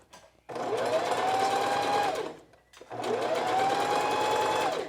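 A sewing machine stitches knit fabric for pants in two steady, loud whirring runs of about two seconds each, separated by a brief pause.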